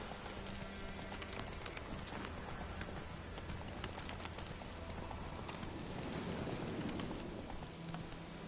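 A horse gallops in The Witcher 3, with steady rhythmic hoofbeats under a dense, noisy outdoor game ambience. The sound is fairly faint and continuous.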